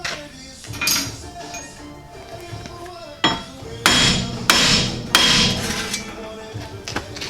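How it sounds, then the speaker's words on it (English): Hard metal hammer blows against a ball joint to pop it off a vehicle hub, several ringing clanks, some sharp and close, separated by quieter pauses with faint background clatter. "In this case, I'm going to try the hammer first."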